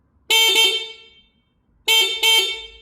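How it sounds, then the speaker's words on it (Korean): Two loud, bright horn honks from a PTX1000 electric scooter, each a quick double beep, separated by a short silence. "PTX1000 클락션 소리 한번 들어볼까요?"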